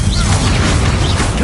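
A Confringo fire spell explodes in the video game Hogwarts Legacy, giving a loud, dense, continuous rumbling blast across the whole moment, with a voice faintly mixed in.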